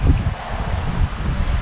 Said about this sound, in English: it's freezing cold and really windy